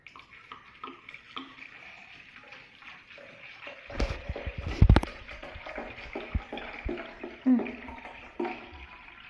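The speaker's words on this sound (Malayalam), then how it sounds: "വെള്ളം ഒഴിക്കുക." Water poured into a jug while lemon drink is being made, a short splashy burst in the middle over faint background noise, with a voice nearby.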